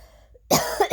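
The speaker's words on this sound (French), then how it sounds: "Je peux pas parler sans tousser, c'est impossible." A single harsh cough bursts out after a near-silent pause, loud and close, with a short throaty tail and a second smaller catch at the end.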